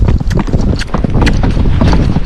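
A Tennessee Walking Horse canters nearby, its hooves striking the ground in a quick, loud, rhythmic clip-clop over a couple of seconds.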